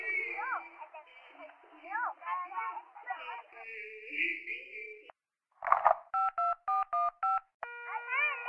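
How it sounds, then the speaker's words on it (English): Phone keypad tones beep during a 911 emergency call: about five short, evenly spaced digit presses follow a stretch of garbled line audio and a burst of noise, then a steady tone. "If you can't talk, please press any digit on your phone"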